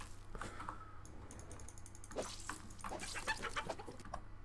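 Faint chicken clucking in The Sims video game Realms of Magic, a few short clucks over quiet game ambience with soft clicking, no talking.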